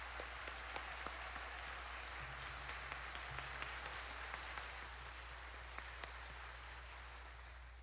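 An audience at a Shincheonji church event applauds with dense, continuous clapping that sounds faint and distant, like steady rain, and holds for several seconds.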